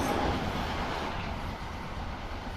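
A Class 745 electric train runs on the line between London Liverpool Street and Stratford, a continuous low rumble and rolling rail noise at moderate level with no talk.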